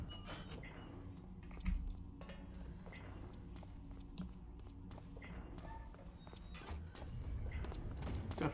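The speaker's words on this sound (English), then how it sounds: "Definitely footsteps." Footsteps in the stealth video game Thief, a steady run of soft thumping and tapping steps over a low ambient rumble, fairly faint and continuing throughout.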